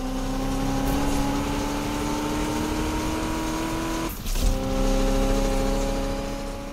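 Race cars roar along in Need for Speed Unbound, engines droning steadily with a brief dip and a quick shift before the loud, continuous engine tone picks back up.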